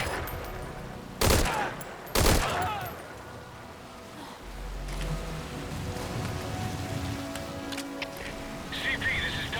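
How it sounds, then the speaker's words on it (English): Gunfire in the stealth video game Metal Gear Solid V: Ground Zeroes, from a gun with a worn-out suppressor: two sharp, loud bursts near the start, followed by a steady rain-like ambience with a low rumble. "We've got unidentified gunfire."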